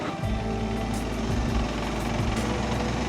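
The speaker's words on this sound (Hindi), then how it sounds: "जो सी इधर थोड़ा वाइब्रेशन का कुछ नॉइज़ आ रहा है मुझे" KTM 390 Adventure motorcycle at riding speed, a steady loud engine drone with a buzzing rattling vibration, likely from the number plate cover, running continuously throughout with no speech.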